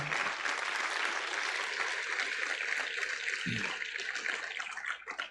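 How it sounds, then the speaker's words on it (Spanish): Worshippers at a church service give a strong round of applause to the Lord, a thick, sustained clatter of many hands that holds steady before tapering off near the end. "Denle un fuerte aplauso al Señor por esta palabra"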